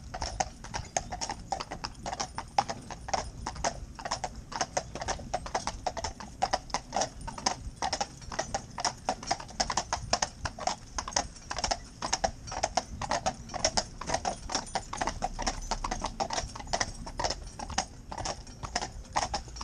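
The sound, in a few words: Friesian horses' hooves clip-clopping on the ground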